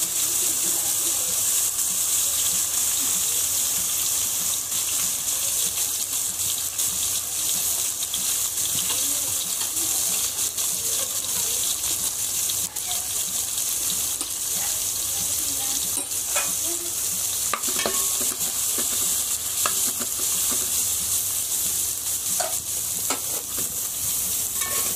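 Green chili dropped into a pan of ginger and garlic frying in oil, giving a steady, close sizzle with occasional stirring scrapes and clinks throughout, no talking.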